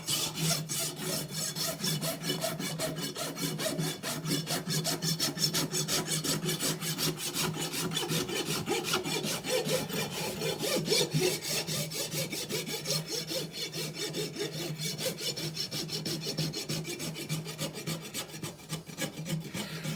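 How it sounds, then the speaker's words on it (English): A rasp files across a horse hoof to clean off dirt, a continuous rapid scratchy rubbing with fast back-and-forth strokes, close and steady for the whole stretch. "you can just use your rasp to get clean. We're wanting to get rid of the dirt."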